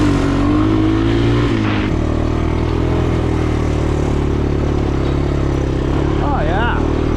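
An old vehicle engine, apparently a motorcycle, runs loud and steady with a rough low rumble, briefly cutting out and then revving up again, close by throughout.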